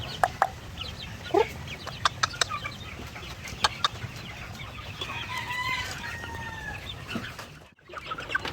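Shamo chickens cluck in short, scattered bursts close by, with a few sharp calls and a brief faint crow among the steady background.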